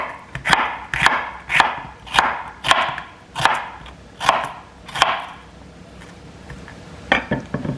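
A knife chops a halved onion on a cutting board in a home kitchen, eight evenly spaced loud thumps, a short pause, then a couple more strikes, close to the listener.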